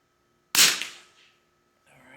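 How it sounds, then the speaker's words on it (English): A single sharp, loud Bergara B14R rifle shot fired into dirt outdoors, a crisp crack that decays over about half a second, followed by quiet and faint sounds at the end. "we're going to shoot the dirt"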